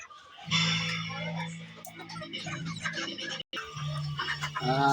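Native chickens clucking and calling close by, a steady run of bird noise with a brief gap partway through.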